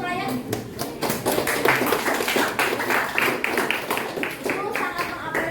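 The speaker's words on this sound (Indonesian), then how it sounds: "Banyak tepuk tangan untuk Ryan." A classroom of students claps for a classmate after his group's presentation, a loud, fairly close patter of many hands that runs steadily with a few sharper taps and brief speech mixed in.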